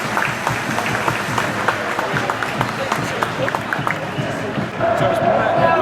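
A large away crowd of Port Vale fans cheers and applauds a goal in a derby at Crewe, a dense roar of claps and shouts that swells louder toward the end.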